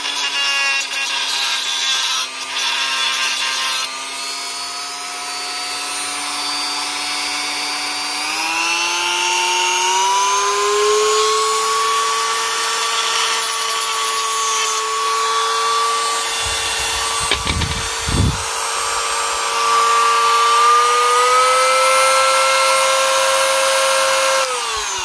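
A Ticklife rotary tool running at level 6 grinds a screwdriver: a loud, continuous high whine whose pitch steps up and holds steady, with brief scraping contact noises partway through.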